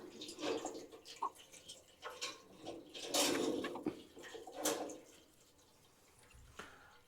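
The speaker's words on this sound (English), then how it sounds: "I have got the tap on very slow" A tap runs on a slow trickle into an automatic chicken water bowl, fed from a 20,000 litre tank with a pump, giving soft intermittent splashing and dripping with brief clunks, close and fairly quiet.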